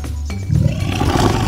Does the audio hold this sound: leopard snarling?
yes